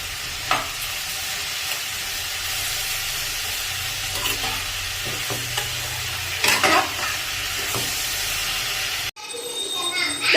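Swollen, darkened grapes cooking in a pan as sugar is added for a grape pickle, with a steady sizzle, repeated scraping stirs and a low rumble beneath, close up and loud.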